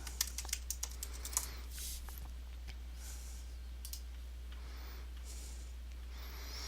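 Quick clicks on a computer keyboard while a Cloud9 password is typed, a brisk burst of keystrokes at first then sparser, softer taps over a steady low hum.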